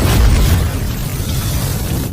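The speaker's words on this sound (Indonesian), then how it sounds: "ia pun segera melepaskan ledakan energi dari teknik gerbang ajaibnya agar bisa segera mengakhiri pertempuran" A magic gate technique in an animated fantasy battle unleashes an energy blast, heard as a loud, deep, rumbling roar that keeps booming throughout.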